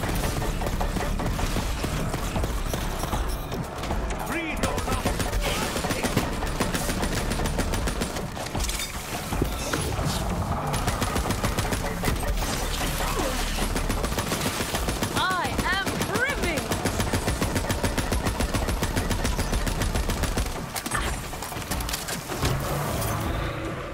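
Dense, continuous gunfire in Borderlands 3 with rapid automatic bursts and booms, loud throughout, mixed with music and effects.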